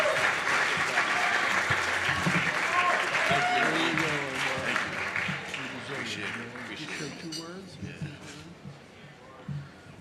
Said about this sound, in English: Give a round of applause to Omar Jackson.